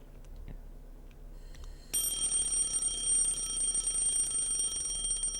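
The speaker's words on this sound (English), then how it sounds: "Shut off the alarm by reflex." An alarm clock in the video game Lucy The Eternity She Wished For starts ringing abruptly partway through, a continuous high electronic bell tone that holds steady to the end over quiet background.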